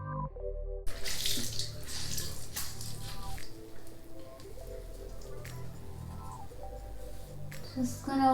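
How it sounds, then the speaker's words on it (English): Running tap water splashes steadily into a sink as a face is rinsed, a continuous close spattering with small shifts in flow and occasional louder splashes over the whole stretch. "So now I'm about to rinse this off."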